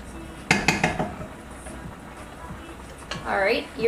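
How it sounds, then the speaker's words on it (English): Tomatoes stirred in a cooking pan, a quick run of utensil clinks and scrapes against the pan, close and fairly sharp, then a short clatter, with a voice talking over the end. "Give the tomatoes a stir."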